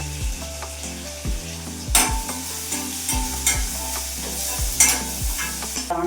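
Green chillies, onions, salt and turmeric sizzle in a pan for a prawn and cucumber curry, a close continuous frying hiss broken by repeated scraping stirs of a spoon against the pan.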